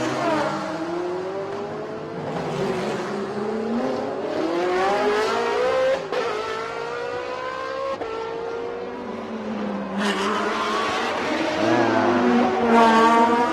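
Race cars at the Bangsaen Grand Prix street circuit, 2019 Thailand Super Series, howling close by as engines climb and drop through gear changes, several cars overlapping in a loud continuous roar.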